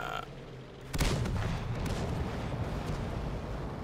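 A heavy blast in the tank game World of Tanks bursts in about a second in and leaves a loud, sustained rumble behind it, with no talking.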